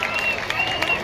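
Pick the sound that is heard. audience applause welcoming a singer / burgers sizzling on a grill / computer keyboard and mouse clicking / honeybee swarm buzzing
audience applause welcoming a singer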